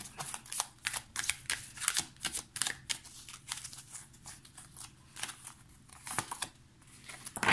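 Tarot cards being shuffled close up, a rapid series of crisp papery riffles and flicks repeating unevenly throughout, with no talk.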